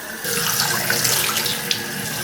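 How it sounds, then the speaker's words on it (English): Tap water running at a sink while face cleansing oil is washed off, a steady loud rush of water that starts a moment in, with brief splashes from hands cupping and rinsing. "I apply a small amount, massage it in, and wash it off with water"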